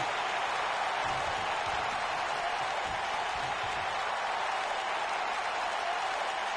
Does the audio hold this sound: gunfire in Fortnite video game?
no